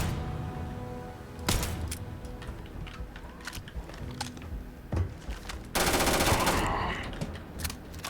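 Ballistic weapon fire in the space game Starfield: sharp bursts of automatic gunfire crack out repeatedly over a low background, with one long, loud sustained volley near the end.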